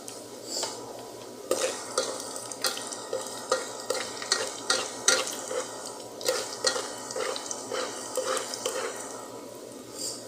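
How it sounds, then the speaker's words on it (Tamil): Onions fry in a pan for chicken curry under a low sizzle, while a spoon stirs and scrapes in a regular rhythm of roughly one knock per half second. Close, with no voices. "அதில் ஒரு லேசாக சிகப்பு கலர் கொண்டு வெங்காயத்தை போட்டுக்கலாம்"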